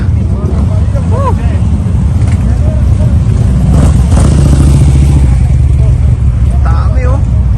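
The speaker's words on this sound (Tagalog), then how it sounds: "Iba't ibang klase din ng motor pero marami ding talagang Harley Davidson" Harley-Davidson motorcycles and other bikes arrive in a group, their engines rumbling and clattering loudly and continuously close by, with someone talking intermittently over the noise.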